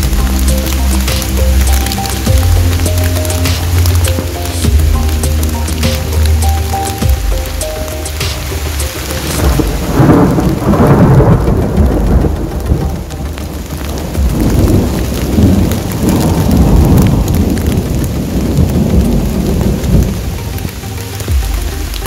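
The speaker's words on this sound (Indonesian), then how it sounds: "Dan hujan ini tak ada tanda-tanda berhenti sama sekali." Heavy rain pours during a thunderstorm on the slopes of Mount Slamet toward evening, a loud, steady hiss of drops on surfaces, with deep rolling thunder rumbling through the downpour.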